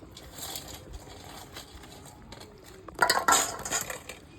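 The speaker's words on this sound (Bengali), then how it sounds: "তো দেখো ঝোল ফুটছে, আর গরম মশলা দিয়ে নামিয়ে নেব।" Lentil fritter curry in a pot on the stove, with a faint bubbling simmer and soft scraping, then a louder burst of clattering metal near the end.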